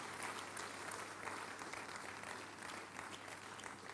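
A congregation at a midweek communion church service applauds steadily, a dense, even wash of clapping heard from a distance that runs the whole time without a break.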